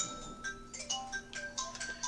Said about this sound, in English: What a nice ringtone.